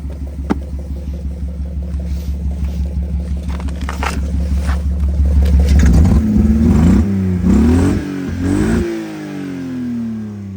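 A BMW E46 engine, its hood under repair, revs hard and climbs toward redline, a loud steady rumble rising in pitch with clattering pulses before dropping back off, with no talk over it.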